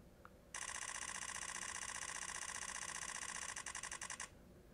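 Camera shutter firing a high-speed continuous burst at about 15.9 frames per second, a dense, loud, mechanical rattle lasting nearly four seconds that stutters and slows just before stopping.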